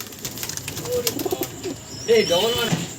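A female pigeon coos softly in short, low rounded calls, close by among rustling and other faint bird sounds, with a voice talking nearby.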